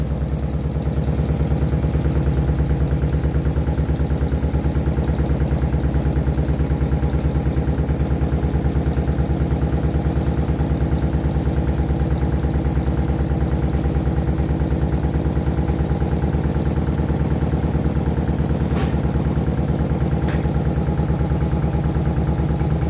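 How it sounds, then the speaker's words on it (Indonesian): A washing machine vibrating and shaking hard as it spins, giving a steady, loud mechanical hum and rattle that runs unbroken and close throughout. "Ternyata masih bergetar, bergoyang-goyang mesin cucinya."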